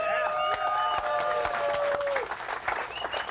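A studio audience at a live talk show bursts into sustained applause and clapping, dense and loud, with a few whoops and voices rising over it before it thins out toward the end.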